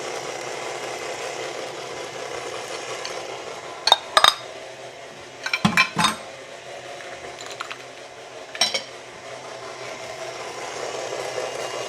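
Cookie dough being mixed in a bowl after a second egg goes in, with scattered metallic clinks and knocks of a utensil against the bowl over quiet background.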